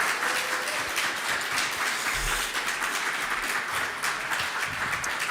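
A meetup audience gives a round of applause for its speakers, a steady, fairly distant wash of clapping that holds evenly throughout with a few cheers mixed in.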